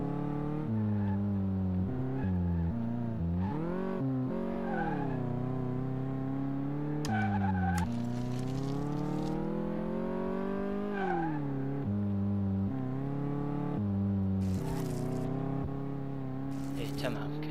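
A car in the Car Mechanic Simulator video game accelerates and revs through a suspension test drive, its engine tone rising and falling in repeated sweeps with brief bursts of tire squeal, all fairly loud and continuous.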